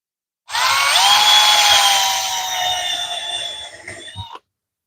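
Power drill boring screw holes for a small wooden box for a French cleat wall, a loud, close, steady whine that holds for about four seconds, then cuts off abruptly.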